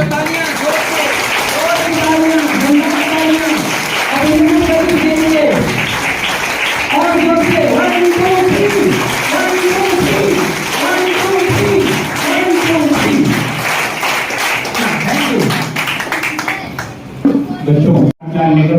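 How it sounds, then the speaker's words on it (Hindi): A crowd at a Teachers' Day school event claps repeatedly while someone speaks over the applause, the clapping rising and falling in waves before dying away near the end. "अगेन में तालियां, हर नाम के बाद ताली"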